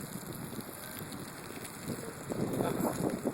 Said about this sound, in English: That's some pretty good wind